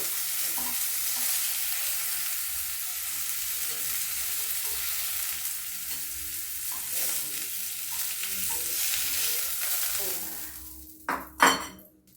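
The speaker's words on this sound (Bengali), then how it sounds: "ঢাকা দিয়ে দিয়ে ভাজবো, জল আছে তো, জল ছিটবে, তাই আমি ঢাকা দিয়ে দিয়ে ভেজে নেব।" Cabbage frying under a lid in a pan, its moisture making a continuous crackling sizzle, with cutlery and pan clinks and scrapes, then a few sharp metallic knocks at the end as the lid and utensils are handled. No one speaks.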